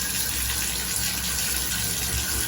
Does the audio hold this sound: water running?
yes